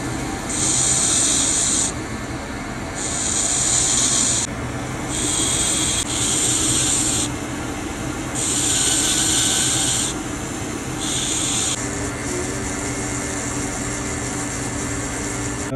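A rotary grinder works down platinum sprues on a 3D-printed Cuban link ring, close up, in about five bright, hissing bursts of high whine separated by short pauses, with no talk.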